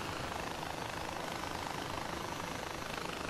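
A helicopter in Far Cry 4 flies with a steady, even rotor and engine drone, faint and continuous throughout, with no voices over it.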